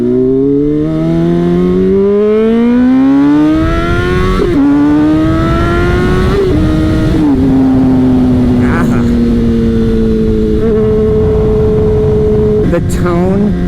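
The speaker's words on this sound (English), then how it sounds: "The tone of a Honda Super Sport is so smooth." A Honda CBR600RR sport motorcycle's inline-four engine while riding, climbing through the revs to a high, smooth whine and then holding a steady note, loud and close with wind noise, and a rider speaking over it.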